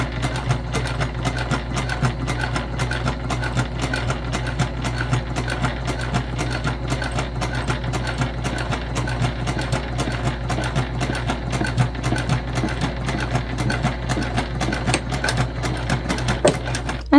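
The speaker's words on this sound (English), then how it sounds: "And then just some back stitching like always." A sewing machine back stitching a fabric bag runs steadily and close by, its rapid needle clatter repeating in an even rhythm throughout with no pauses and no talking.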